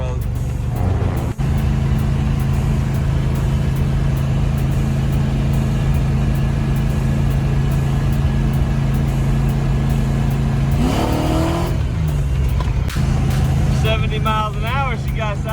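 A Ford Mustang street car cruising down the road at about 70 mph, with a steady loud engine drone and road roar throughout and a brief revving sweep near the end; people talk over it.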